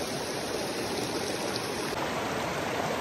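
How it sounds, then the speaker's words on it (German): Rain falling steadily on a cold, wet Himalayan trek near Bhrigu Lake, a constant dense hiss close by with no distinct drips standing out, alone without talk. "Das Regenwasser tropft schon von der Kapuze."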